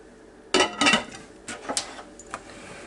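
A metal lid is set onto a pot of ground venison stew: two close clanks of metal on metal, followed by a few lighter taps and clicks as it settles.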